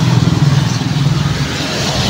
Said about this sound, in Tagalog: Tricycle natin guys.